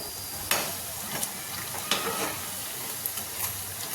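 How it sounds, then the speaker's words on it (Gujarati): Garlic being stirred and fried in a pan for a cabbage snack, giving a steady sizzle with sharp scraping stir strokes at intervals, close and moderately loud. "આવી રીતે લસણને ફેરવી લેવાનો છે એકદમ સરસ એવો કલર આવી ગયો છે"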